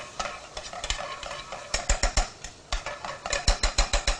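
Spices and turmeric are dry-fried in a hot pan, with a utensil scraping and stirring in quick, regular rhythmic strokes over a light sizzle. No talking.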